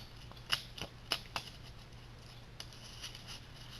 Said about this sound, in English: do a basic shuffle